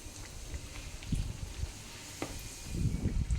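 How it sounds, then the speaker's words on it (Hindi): Khasta kachori frying in oil on a medium flame, a soft continuous sizzle with occasional low bubbling pops, faint and steady with nobody talking. "ये एकदम मीडियम फ्लेम पर ही इसको फ्राई करेंगे।"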